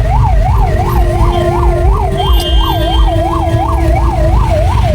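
A loud wailing ambulance siren rises and falls in a steady rhythm, close by, over the rumble of road traffic.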